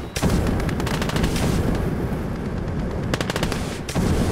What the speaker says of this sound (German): Schieß mal ein Dauerfeuer, ja, sehr gut.